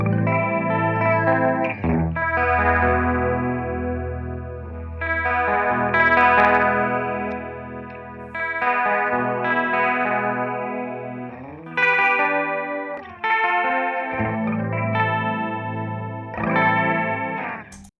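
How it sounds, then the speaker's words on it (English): Electric guitar played through a 1976 Roland DC-50 digital chorus, a 1978 Ibanez Iceman, sounding as sustained, shimmering chords and arpeggiated phrases with a lush, wavering doubled tone, several separate strummed passages ringing out and decaying. "It's a digital chorus."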